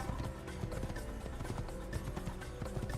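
Horse hooves galloping in Assassin's Creed, a fast continuous rhythmic clatter of footfalls kept quiet and steady throughout, with no talk.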